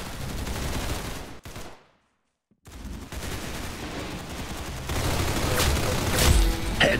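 Bursts of gunfire in the Roblox game Arsenal, loud close shots that break off into a short silence, then resume as a steady stream that grows louder toward the end.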